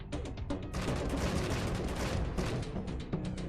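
Gunfire from the video game Wasteland 3: a dense, sustained volley of loud, overlapping shots and impacts that hammers on without a break for several seconds.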